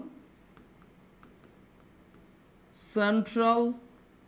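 Pen or chalk scratches out a word in short strokes during an admission-prep lesson, quiet at first, then a voice speaks briefly near the end.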